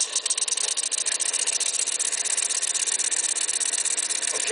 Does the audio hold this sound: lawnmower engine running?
yes